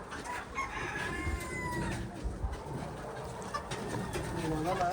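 Chickens in a farm shed cluck and call in short bursts, one crowing-like note rising among them, with people talking quietly over the birds.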